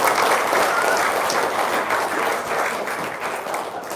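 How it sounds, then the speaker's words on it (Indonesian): An audience at a religious gathering in Indonesia applauds. The clapping is loud, dense and steady for the whole four seconds and fades slightly toward the end, with no talk over it. "Tepuk tangan dong."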